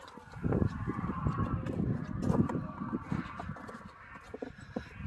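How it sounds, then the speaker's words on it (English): Several chickens cluck and squawk nearby in an uneven, chattering burst, with a few louder calls standing out. "Oh, chickens!"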